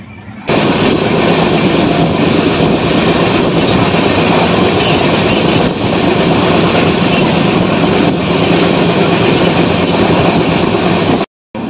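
Passengers ride inside a sleeper coach of an Indian express train from Kolkata toward Ayodhya running at about 107 km/h, filled with a loud, steady rumbling roar that cuts off abruptly near the end.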